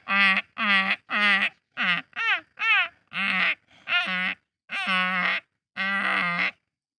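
A human voice imitates the call of a painted stork with a series of about ten short, harsh, honking bursts in an uneven rhythm, loud and close with no other sound.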